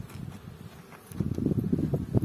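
Bees buzz at an open beehive while it is being covered, a low, fluttering hum that grows louder and denser in the second half, close to the microphone with some rustling.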